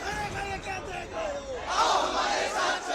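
A dense protest crowd marching through a Kolkata street shouts and chants together, a loud continuous roar of many voices that swells louder toward the end.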